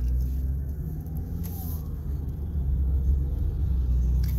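Car engine idling steadily after a Rislone oil additive treatment, a low continuous rumble held close and even, with faint traffic hiss above and no talking.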